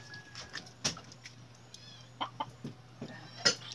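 Soft, intermittent clucks from a chicken, fairly faint, scattered over a low steady hum, with a few clicks and knocks nearby.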